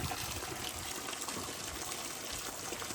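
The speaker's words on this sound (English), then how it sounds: "A lot of water coming out of there." Water gushing steadily from a drained cabin pipe into a dirty bucket, a continuous splashing rush that stays loud and even throughout, with no voices.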